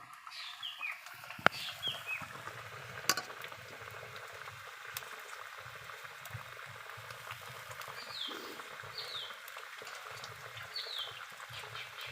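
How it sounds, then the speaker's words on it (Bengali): A curry of puti fish with water lilies bubbling at a steady boil in a pot, a soft continuous simmering burble with occasional clinks and faint bird calls in the background. "তরকারিটা অনেক সুন্দর বলক উঠে গেছে"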